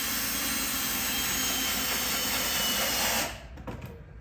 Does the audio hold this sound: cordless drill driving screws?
yes